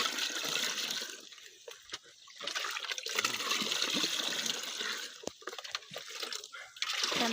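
About four litres of water are poured into a liquid mixture for feeding rose plants. The splashing gurgle is close and continuous, with brief dips and a few knocks.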